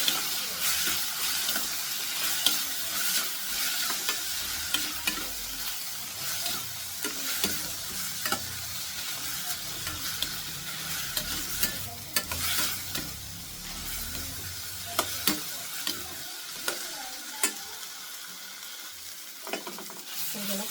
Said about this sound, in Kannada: ಸ್ವಲ್ಪ ಕೊತ್ತಂಬರಿನ ಹಾಕ್ಕೊತೀನಿ ಫ್ರೈ ಮಾಡೋಣ